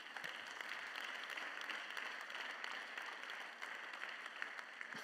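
A congregation applauds during a French-language Sunday church service, a faint, steady wash of many hands clapping, heard at a distance for several seconds without speech.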